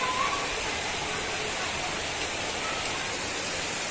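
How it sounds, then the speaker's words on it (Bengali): Heavy, steady rain pouring down at a school, a dense even hiss of downpour with no letup, close and fairly loud throughout. "প্রচুর বৃষ্টি প্রচুর অবস্থাটা দেখো স্কুলের মানে অঝরে বৃষ্টি"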